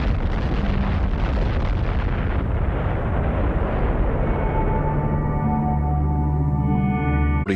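An atomic bomb test explosion at Bikini Atoll, with target warships in the lagoon, gives a massive, loud, sustained roar that slowly thins and fades as steady tones rise near the end.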